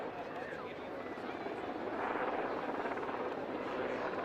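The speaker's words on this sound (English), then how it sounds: "Underslinging anything really from a helicopter, also a bit of an acquired art." Helicopter hovering steadily with an underslung load at the Wales Airshow, a continuous broad rotor and engine roar under a commentator's voice, swelling slightly louder partway through.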